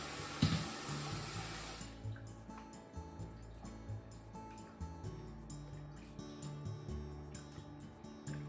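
Water runs steadily from a tap into a sink, with a burst of splashing at the start and a constant rushing flow throughout, cold water draining and rinsing boiled spinach.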